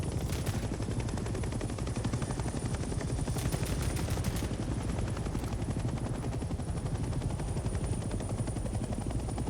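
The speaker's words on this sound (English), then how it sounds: "I can't believe the Hell Let Loose game added a chopper" Helicopter in the Vietnam-era shooter Hell Let Loose: Vietnam, its rotor thumping in a rapid steady beat close by, with bursts of gunfire cutting through.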